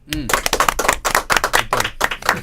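Hands clapping as applause for a team of investigators, a dense run of sharp claps in bursts across the whole stretch, close and fairly loud, with speech mixed in.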